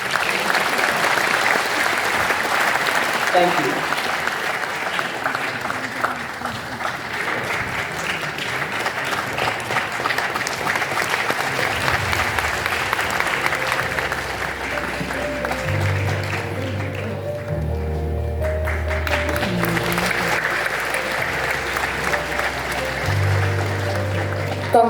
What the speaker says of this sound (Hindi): must ask you to offer your loudest cheer as we present the awards to all these achievers